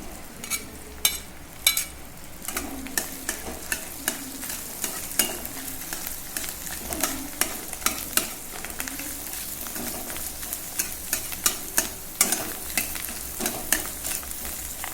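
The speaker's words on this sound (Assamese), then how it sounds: "লৰাই বগৰাই ভাজিব।" Fish eggs frying in a hot pan while being stirred, a continuous close sizzle broken by frequent sharp scrapes and clicks of the utensil against the pan over about fifteen seconds, with no talking.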